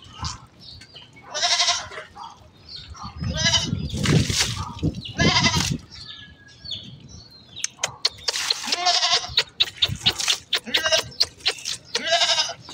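A goat bleats repeatedly while being doused with water on a hot day at a farm, the calls coming close and loud in bursts, separated by wet splashing and rustling.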